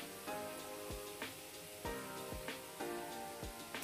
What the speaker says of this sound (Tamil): ஸோ மீடியம் ஃப்ளேமில் வச்சு பொரிக்கணும்.